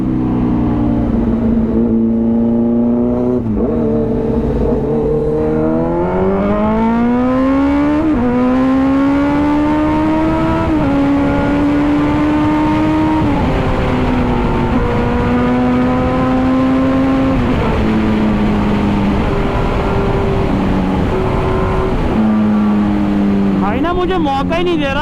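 Two 2023 Kawasaki Z900 motorcycles race side by side, engines revving loudly and continuously with repeated rising and falling gear-change sweeps, close and dominant throughout.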